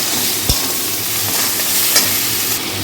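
Ground spices with ginger and garlic paste frying loudly in a pan, giving a dense, even sizzle with a couple of soft spoon scrapes.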